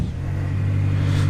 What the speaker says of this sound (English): And if we start the engine